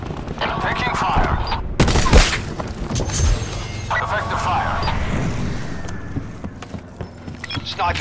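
Gunfire in Call of Duty: Black Ops 4, a dense fusillade of shots bursting out with one heavy crack near the start, running under game radio voice chatter and battlefield noise.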